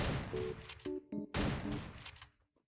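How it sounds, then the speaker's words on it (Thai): Shots from an M590 shotgun with explosive rounds in the Free Fire video game ring out as several sharp bursts and blasts with brief tonal effects between them, fairly quiet overall and fading out at the end. "เวลาเรายิงออกไปนะครับแล้ว ตรงจุดที่เรายิงโดนนะมันจะเกิดการระเบิดขึ้นมานะครับ"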